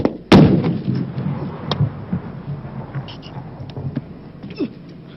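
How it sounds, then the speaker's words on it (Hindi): A single sharp, loud gunshot from a blank round fired by a real weapon in a war film scene, followed by a rumbling decay and faint background clatter with a voice underneath. "रियल वेपन्स तो यूज हुए, लेकिन फायरिंग के लिए यूज की गई थी ब्लैंक बुलेट्स, जो कि साउंड और रिकॉइल बिल्कुल असली जैसी लगती है"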